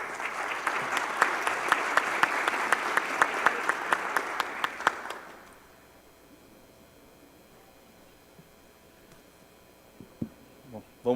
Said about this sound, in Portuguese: Por favor, salve de palmas.